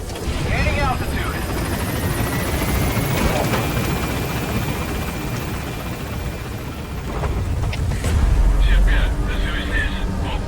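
Pequod helicopter gaining altitude in Metal Gear Solid V: a loud, steady rotor and engine roar fills the whole stretch, swelling slightly near the end, with faint game tones and distant booms underneath.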